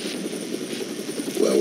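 Helicopter rotor and engine drone in the video game Splinter Cell Blacklist as the chopper lifts off from its pad, a steady, dense near whir that swells slightly louder at the end.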